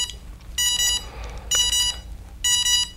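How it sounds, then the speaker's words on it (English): A drone flight controller powering up emits three bursts of rapid high-pitched beeping, evenly spaced with short pauses between them, close and clear. "I'm going to start hearing beeping and my little lights flashing"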